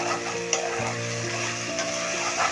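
Spices, tomato sauce and soy sauce get stirred in a pan for crispy chilli baby corn, a steady sizzle and frying hiss with a few scraping stirs, close and without talk.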